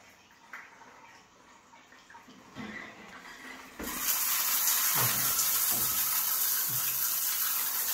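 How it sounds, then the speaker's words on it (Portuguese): Water bursts on and runs steadily, loud and constant, through a newly installed Lorenzetti Turbo Jet electric shower, after a few faint clicks and knocks of plumbing work. "Então vamos abrir a água, né?"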